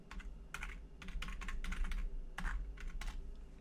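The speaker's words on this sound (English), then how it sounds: "I don't know what's going on with my typing today." Fingers type on a computer keyboard in quick bursts of clicky keystrokes, close up over a low steady hum, with brief pauses between runs.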